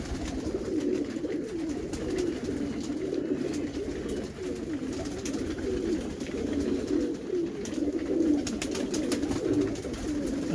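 Pigeons cooing at sunset in a loft, a continuous chorus of low throaty coos overlapping close by, steady throughout with faint clicks and rustles.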